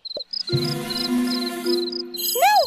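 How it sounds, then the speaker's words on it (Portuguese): Crickets chirp in repeated high, even pulses over a sustained tonal background with sliding whistle-like sounds in an animated scene, fairly loud and close, with no speech. "Venham aqui, grilos fujões!"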